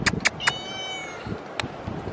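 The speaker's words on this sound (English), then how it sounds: "Come here, Jackson cat." A cat meows several times outdoors: a short run of close, clear meows, then one longer drawn-out call, with soft background noise and scattered faint clicks.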